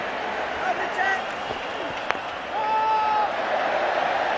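Crowd applause and cheering rise around a one-day international cricket match between India and Australia, a broad steady roar with scattered whistles, sustained throughout under a commentator's voice.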